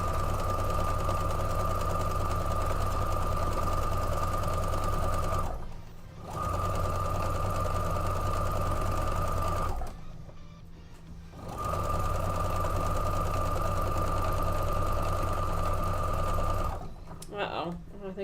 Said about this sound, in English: now we're sewing those pieces up together